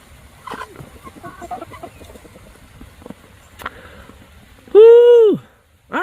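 Golden Wyandotte chickens cluck and murmur softly nearby in a rainy coop, with a sharp tap partway through, then one loud, drawn-out squawk near the end.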